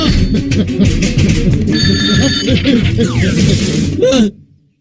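A telephone rings with repeated electronic trills in a comedy scene, loud and continuous under overlapping talk and laughter before cutting off abruptly.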